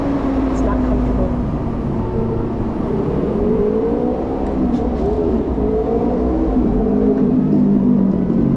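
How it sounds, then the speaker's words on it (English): Busy road traffic rumbles steadily around a rider testing a LiveWire electric motorcycle, a continuous drone of car and bus engines with wind noise and occasional talk over it. "Crazy traffic."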